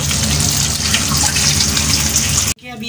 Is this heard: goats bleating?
no